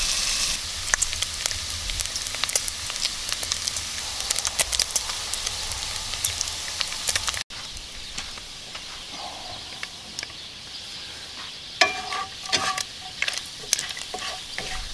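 Bacon frying in a Dutch oven, a dense continuous sizzle and crackle with scattered pops, steady and close, thinning slightly partway through and then carrying on with occasional sharper spits.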